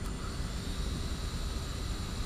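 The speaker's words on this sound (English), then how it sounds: "So we start the drone." Motors of a low-cost R12 quadcopter drone whir as a steady, even, buzzing hum at moderate volume, with no other sounds over it.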